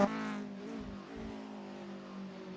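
Race cars, MK1 Golfs, drive hard over the curbs in a sim racing game, with steady engine drone, shifting revs and a brief louder burst at the start.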